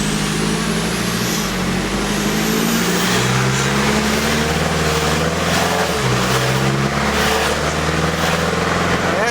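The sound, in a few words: vehicle with DT44 Stealth turbo accelerating at partial throttle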